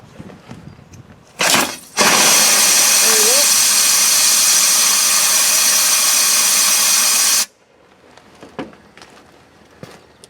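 Compressed air from an airline blasts into the sunroof drain pipe of a 1991 Range Rover: a short burst, then a loud, steady hiss lasting about five seconds that cuts off sharply, followed by faint handling clicks.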